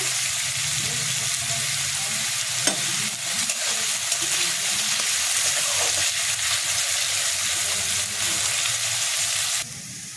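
Salted potatoes brown in a frying pan, a constant close sizzle with repeated stirring scrapes and occasional clicks, ending with a slight drop in level; nobody speaks.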